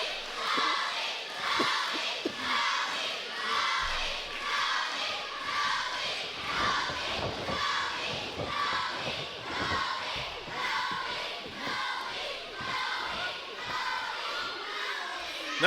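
A large crowd roars and shouts continuously at a fighting event, a dense wall of overlapping voices with steady intensity and occasional louder surges throughout.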